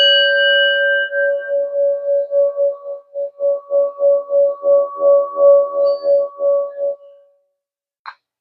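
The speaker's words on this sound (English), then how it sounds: "I'm going to bang the gong" A struck metal gong rings out with a sustained shimmering tone, then a rapid series of pulsing, rhythmic strokes swells and fades before a final faint tap, heard alone without talk.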